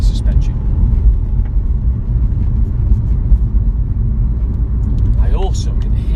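Steady low road roar and tyre rumble inside a Mini Paceman Cooper SD on run-flat tyres, continuous and fairly loud throughout, with a person talking over it.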